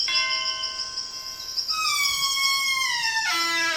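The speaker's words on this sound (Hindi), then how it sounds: "चलो घंटी बजाए।" A bright electronic doorbell chime in a cartoon rings at a spooky night-time house, a clear melodic ding-dong with tones stepping downward, loud and close, heard alone.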